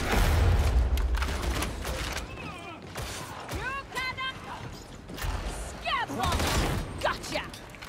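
Gunfire in Warhammer 40k Darktide: rapid bursts of shots and heavy impacts rattle through a crowded, mechanical game mix, with creaks and chirpy effects scattered in between.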